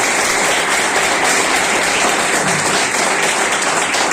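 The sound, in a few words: audience applause for teachers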